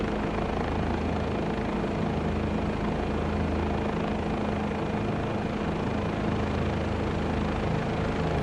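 A helicopter flies on a tour around Providence in Microsoft Flight Simulator 2024, a loud steady rotor and engine drone that holds constant throughout.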